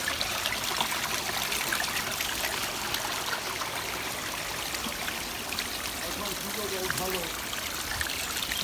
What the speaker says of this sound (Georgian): აქაც წყალი მოდის.